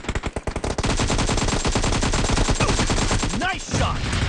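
Rapid automatic gunfire from a PUBG match played on iPad, a dense run of sharp bursts that follows a few separate shots and continues without letup, with a brief voice near the end.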